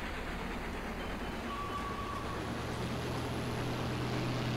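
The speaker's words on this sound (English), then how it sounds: "That is a beautiful looking train." A train rolling past in Farming Simulator 19 on the Chellington Valley map, a steady, continuous low rumble and drone with a faint high whine, filling the whole stretch without talk.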